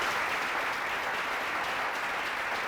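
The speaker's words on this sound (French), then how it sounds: "Je vais demander beaucoup d'applaudissements pour cette dame." Studio audience on a TV game show gives a woman a dense, continuous round of applause, even and sustained from start to finish with no voices over it.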